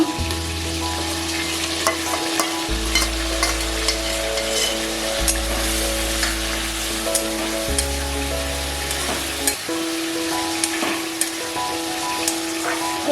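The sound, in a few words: spice paste frying in a pan for soybean curry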